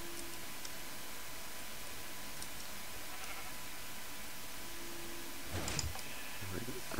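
Minecraft sheep on a logic-puzzle map let out short, faint game bleats near the start and again later, over a steady background hiss with scattered clicks.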